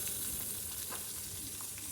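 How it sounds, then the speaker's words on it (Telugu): Onions and green chillies frying in oil over a low flame for a spinach and potato fry, a soft, steady sizzle that holds evenly throughout with no voices. "ఉల్లిపాయలు, పచ్చిమిరపకాయలు కూడా వేసి చిన్న మంట మీద కొద్దిగా ఉప్పు వేసండి వేపేద్దామండి"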